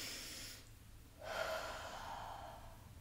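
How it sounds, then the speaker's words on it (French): Two slow, deep breaths during a front-splits flexibility stretch, a long airy inhale followed by a fuller exhale, close to the microphone with no talking. "J'aimerais que tu prennes le temps de respirer 3 fois à ton rythme"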